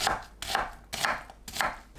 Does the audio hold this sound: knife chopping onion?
yes